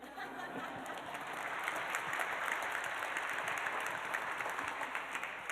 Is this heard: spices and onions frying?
no